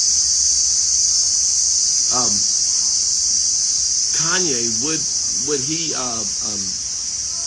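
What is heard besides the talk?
crickets chirping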